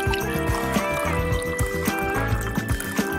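Blue water poured into a container, a continuous liquid trickle and fill heard up close with faint music-like tones underneath.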